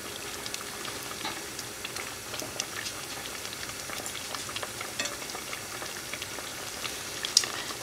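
A pot of food-coloring dye with wool/acrylic blend yarn simmers quietly, giving a faint, steady bubbling with scattered small pops and no talking.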